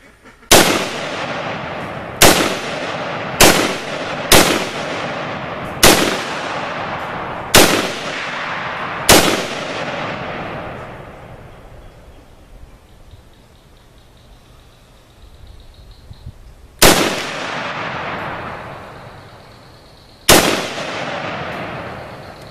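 Gunshots fired one at a time by a first-time shooter outdoors, loud sharp reports with ringing decay, seven in a quick uneven series, then a quiet pause before two more spaced shots.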